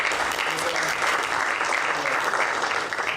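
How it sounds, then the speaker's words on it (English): Audience applause at an Eco Africa presentation, a dense, steady wash of many hands clapping that holds evenly for a few seconds before starting to thin at the end. "Please can we give her a round of applause?"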